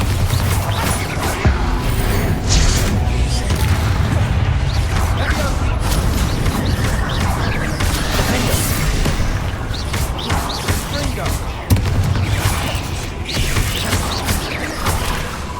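Dense, continuous barrage of blasts and crashing impacts from Bombarda explosion spells in Hogwarts Legacy combat, loud and sustained throughout with repeated booming hits layered over game music and effects.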